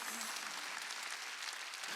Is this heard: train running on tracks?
no